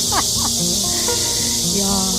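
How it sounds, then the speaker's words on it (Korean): Loud, steady cicada chorus in a summer outdoor setting with a stray cat nearby, a dense continuous high buzz filling the background throughout, with a few faint cat-like or human vocal sounds low in the mix. "매미 소리가 대단하다 대단 하다"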